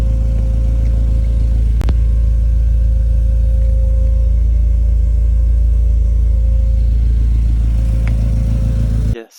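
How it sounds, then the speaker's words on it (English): A faulty fuel pump in a 40-year-old car whines loudly and steadily under a constant engine drone, the tone holding unchanged throughout before cutting off abruptly at the end. "the fuel pump decided to go bad and whine a lot, very loud"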